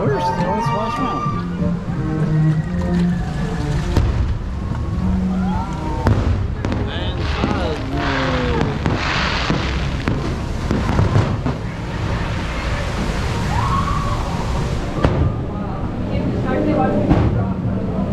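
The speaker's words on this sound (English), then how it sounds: "My fireworks show over here." A fireworks show at a theme park near Splash Mountain, with pops and bangs scattered through lively crowd noise and people talking close by.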